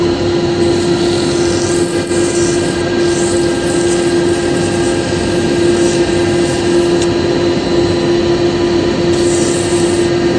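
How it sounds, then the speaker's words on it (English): A small resin piece on a woodturning lathe being sanded with sanding pads: a steady motor hum with a strong constant tone and a soft continuous rubbing hiss throughout. "So I'm just going to do a very quick sand on this."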